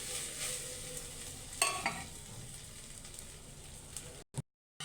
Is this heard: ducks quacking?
no